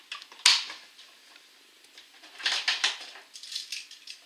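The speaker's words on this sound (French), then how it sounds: "Le bruit que vous entendez, c'est le bruit de sa boîte." A man rummages through his box of painting materials nearby, producing clattery metallic clinks, scrapes and rattles in irregular bursts, with one sharp knock early on, moderately loud in a quiet room.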